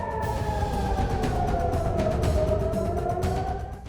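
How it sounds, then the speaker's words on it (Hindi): Air raid sirens wail near Ben Gurion Airport in Tel Aviv, several loud rising and falling tones overlapping continuously over a rumbling background, with no speech. "मध्य पूर्व के सबसे व्यस्त हवाई अड्डों में से एक के पास सायरन गूंज रहे हैं"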